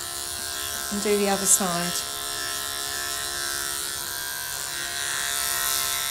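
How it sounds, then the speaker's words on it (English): Electric clippers hum steadily on a Labradoodle puppy's coat: a constant close buzz through the clip, briefly overlapped by a short spoken phrase near the start. "Once you've clipped both sides with your clipper"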